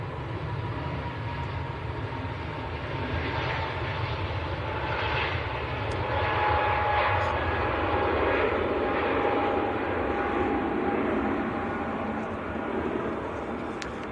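British Airways A321neo airliner at Manchester Airport, its engines a broad, steady roar heard from outside at a moderate distance, swelling slightly midway and staying continuous throughout.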